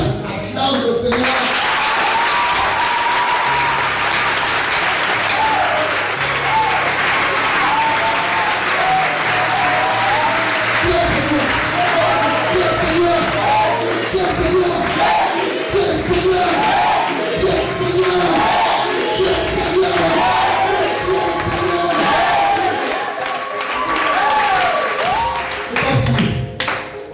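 A congregation at a wedding service applauding and cheering loudly and continuously, dense clapping mixed with shouted acclamations and voices throughout.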